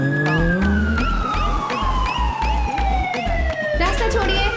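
An ambulance siren wails loudly and nearby during a tense scene in a Hindi-dubbed action film. The tone sweeps steadily downward over a rumbling engine and traffic noise throughout.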